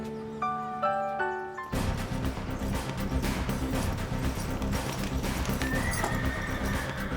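A nervous horse whinnies sharply over a busy mix of hoofbeats and music, loud and close, the neighing rising and falling nervously.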